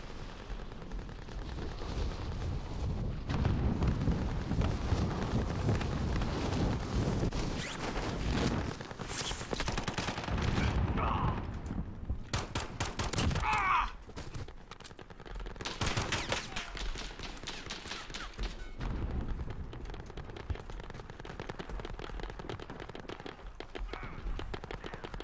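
Gunfire in the Call of Duty Warzone video game: dense, loud bursts of automatic fire and single shots crackle almost without a break, with explosive booms and a brief voice under the shooting.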